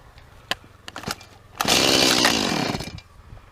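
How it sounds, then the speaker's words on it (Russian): After a few sharp knocks and clatters, an old Stihl chainsaw with a German engine roars to life close by, revving loudly for over a second before dying down again. "Бензопила, старый штиль, еще немецкий двигатель"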